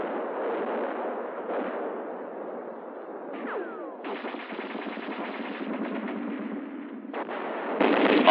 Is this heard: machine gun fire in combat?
yes